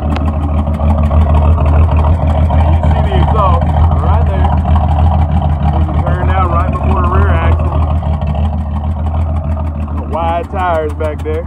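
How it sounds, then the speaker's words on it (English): A 1968 Ford F100 pickup truck engine idles with a deep, steady exhaust rumble throughout, while people talk over it. "I'm gonna let y'all listen to the exhaust song."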